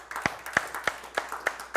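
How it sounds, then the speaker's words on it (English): A church congregation clapping their hands in a steady rhythm, about two claps per second, clear and moderately loud with a slight room echo. "Give the Lord a hand clap tonight"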